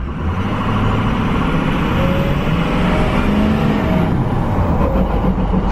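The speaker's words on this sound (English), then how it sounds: "This truck has a mean flutter sound to it." Ford truck revving as the gas is pressed, its turbo giving a steady loud rumbling flutter, heard close and continuous with no talk.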